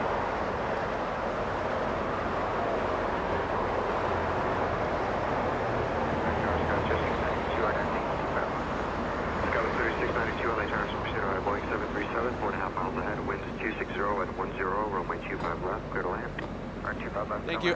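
An American airliner from Dallas Fort Worth at Los Angeles International Airport rumbles steadily at a distance, a broad jet roar that swells slightly over time while a person talks over it throughout.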